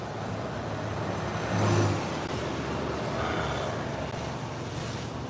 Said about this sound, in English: Damn, that bus is going fast.